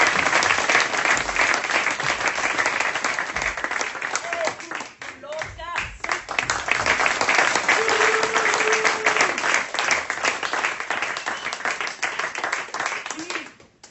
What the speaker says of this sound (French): Je vous demande d'applaudir dans l'ordre de leur entrée sur scène les Kung